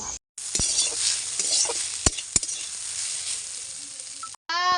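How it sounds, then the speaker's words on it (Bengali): Food frying in a pan, a steady loud sizzle with stirring clatter and a few sharp utensil knocks, cutting off briefly at the start and end. "আর আজকে ভাজা করছি রেসিপি"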